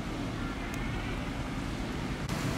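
Broadband wash of water and wind around a barge moving along a small river where salty water pours in like a waterfall, steady and close with a couple of short knocks.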